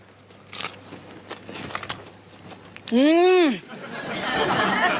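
A sharp crunchy bite into a papad served with a milk-based vegetable dish, then brief crackling and chewing up close, with people chatting and a short squeaky vocal sound around it.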